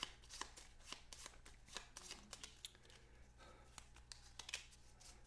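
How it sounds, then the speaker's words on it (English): Deck of game cards being shuffled by hand during a Lord of the Rings: Journeys in Middle-earth board game session, a run of crisp riffling flutters and soft slaps repeating irregularly at close range, with no talking. "we're shuffling up his deck"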